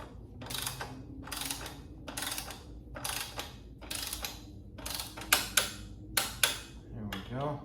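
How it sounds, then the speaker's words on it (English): A torque wrench clicks in quick repeated bursts while tightening bolts on a luggage rack kit for a 2024 Triumph Scrambler 400X, a rhythmic ratcheting with several sharp click-offs near the end. "So I've got my torque wrench set to that, and so we'll go ahead and get these torqued properly"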